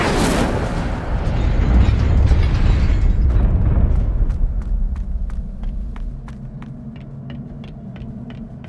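A fiery Incendio spell bursts out in Hogwarts Legacy with a loud, roaring rumble that fades into a crackling burn, while sharp ticking clicks repeat at a steady rhythm underneath. No one speaks.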